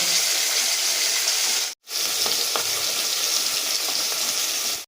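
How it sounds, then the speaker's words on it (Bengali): Rohu fish sizzling in hot oil, a dense, even, close-up hiss and crackle that cuts out briefly for a moment before carrying on just as steady. "ঠিক একইভাবে আমি এই পিঠটাকেও এইভাবে ভেজে নেব।"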